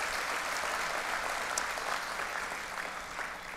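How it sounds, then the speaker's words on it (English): Church congregation applauding during a service, a faint, steady wash of many hands clapping heard from a distance, with no voices over it. "Let's give them all a big round of applause."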